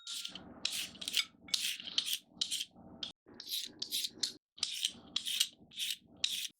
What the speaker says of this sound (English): I'm going to start peeling the carrots.